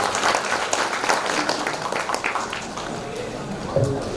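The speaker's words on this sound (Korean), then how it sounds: "우리 최현덕 부시장님 위해서 박수 한번 주십시오." Audience applause at a Korean poetry collection launch event for a former deputy mayor, a steady round of clapping from a crowd lasting the whole stretch, with voices mixed in underneath.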